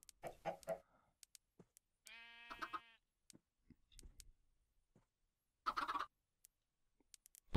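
Video-game chickens cluck in short scattered bursts, with a buzzy tonal call and faint ticking footsteps between them, close and clear against silence.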